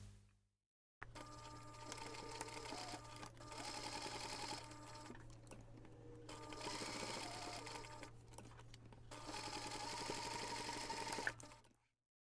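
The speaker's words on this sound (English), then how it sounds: "take this to the machine and simply top stitch around those three sides" A domestic sewing machine top-stitches around three sides of a small fabric photo keychain in three bursts of fast, even motor whirring and needle chatter, with short pauses between runs.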